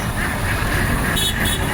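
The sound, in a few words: ducks quacking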